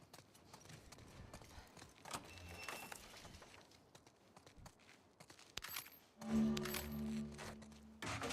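Horses clip-clop at a steady walking pace in The Last of Us Part 2, with game music and ambient sound around them and a louder tonal swell near the end.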